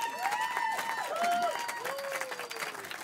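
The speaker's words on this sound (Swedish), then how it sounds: "Varför jublar ni åt det här?" Crowd at a live stand-up comedy show at Slakthuset cheering and applauding, a dense, steady wash of clapping and whoops with scattered voices and whistle-like calls rising above it for the whole stretch.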